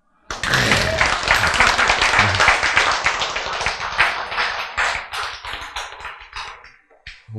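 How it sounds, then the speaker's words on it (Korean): A small group claps together indoors, sharp individual hand claps forming a brisk burst that starts loud and gradually thins and fades over several seconds. "박수."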